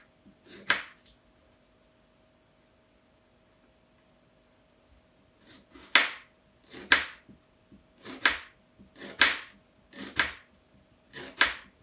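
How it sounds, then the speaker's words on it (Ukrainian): A knife cuts an onion into thin half-rings on a board: one crisp chop, a pause, then six evenly spaced sharp slices, close and clear, with no talking. "Цибульку наріжемо тоненькими півкільцями."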